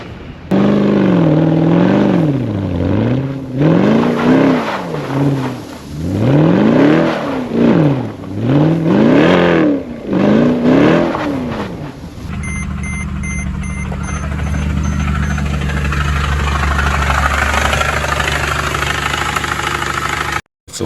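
A Race IQ tuned Mercedes ML63 AMG engine revs loudly and close, with repeated rising and falling blips in the first half, then settling into a steady rumbling idle with a faint high whine.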